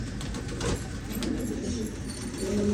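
Ferozpuri pigeons coo in a steady, close, low-pitched stream of soft repeated calls, with several birds overlapping and no talk.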